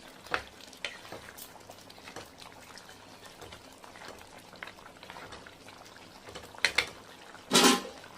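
Mutton masala gravy being stirred in a pan, a soft, steady scraping and bubbling with a few sharper clanks of the spoon and a louder burst near the end.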